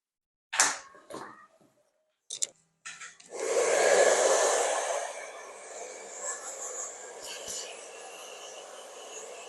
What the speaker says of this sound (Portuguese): ele aceita numa boa secador, a gente vai terminar de secar